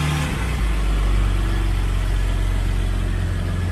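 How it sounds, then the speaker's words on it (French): A naturally aspirated six-cylinder GT car engine idles close by, a steady deep rumble held without change for the whole stretch. "Avec un moteur Atmo en 6 cylindres sur les GT comme ça, c'est magnifique"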